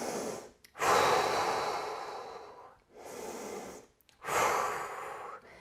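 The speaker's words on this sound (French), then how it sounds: "J'inspire, j'expire, je me détends le plus possible." Slow, deep yoga breathing during a stretching and twisting session: three long airy breaths, inhale and exhale, close and fairly loud, separated by brief silent pauses, with no talking.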